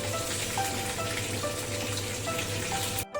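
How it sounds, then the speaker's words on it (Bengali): Chicken pieces frying in hot oil for chicken Manchurian: a loud, dense, steady sizzle with crackling pops that continues throughout and cuts off abruptly at the end. "উল্টে পাল্টে চিকেনগুলোকে ভালো করে ফ্রাই করে নিয়েছি"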